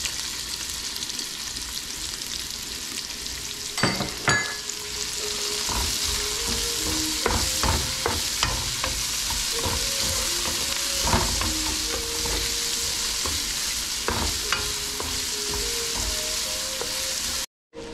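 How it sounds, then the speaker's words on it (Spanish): Garlic and red onion sizzle steadily in a pan for Ecuadorian lentil moro, with a constant frying hiss broken by scattered utensil clinks and scrapes as the pan is stirred. "Ya que ya está frita la cebollita"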